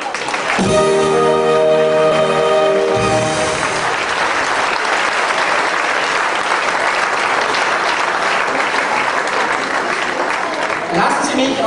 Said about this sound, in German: Applaus für Sie, unsere Kindergarde mit ihrem Marschtanz.